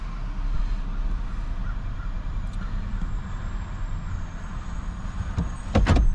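A 2011 Hyundai Santa Fe with a 3.5L engine and an oil leak idles with a steady low rumble close by, its level holding even, with a brief louder bump near the end.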